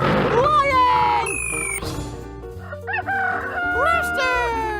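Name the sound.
rooster crowing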